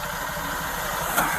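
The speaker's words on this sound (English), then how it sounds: "Exhaust is rattling." A car idles steadily with a rattling exhaust, a continuous close engine drone with no talk over it, a brief sharper noise near the end.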